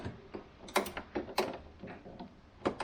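Nuts being tightened by hand tool on a Fiat Ducato / Peugeot Boxer / Citroën Relay van's relocated rear door handle, giving a series of short metallic clicks and ratcheting taps in an irregular rhythm, close by.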